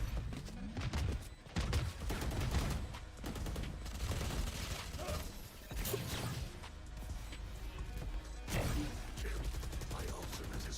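A missile barrage fired in the tactical shooter Valorant: a dense, loud string of rapid blasts and crashing impacts rolls on for about ten seconds with brief dips between waves.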